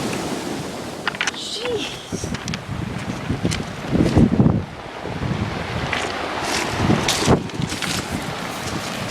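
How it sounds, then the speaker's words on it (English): Huge ocean waves crash and roar on the shore at Scituate in April, with strong wind buffeting the microphone throughout; a man briefly exclaims over the surf. "It's still April and these are the waves."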